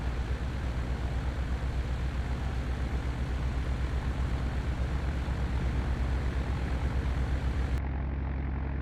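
Steady, loud droning rumble of a Douglas DC-3's propeller engines while taxiing in Flight Simulator X, continuous and unbroken throughout, with the high end cutting out abruptly near the end.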